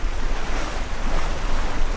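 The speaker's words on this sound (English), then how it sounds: "just sit here listening to this beautiful ocean," Ocean waves and surf in the Sailaway sailing game, aboard a 52-foot catamaran, wash continuously with a loud, broad rushing noise and wind, with no voices.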